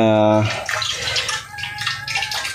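Water mixed with synthetic fertilizer, triple 14 and urea, splashes and trickles while grape plants are watered, with someone speaking over the close, uneven pouring sounds.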